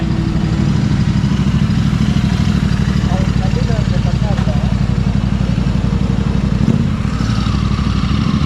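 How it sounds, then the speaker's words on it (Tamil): A Royal Enfield motorcycle engine being tuned thumps steadily and loudly nearby in a fast, even rhythm, with faint voices in the background. "வண்டி டியூன் பண்ணுறான் ஜிடி"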